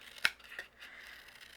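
Scissors snipping through paper while cutting out paper vines for a handmade card, two or three quick close snips, the first sharpest.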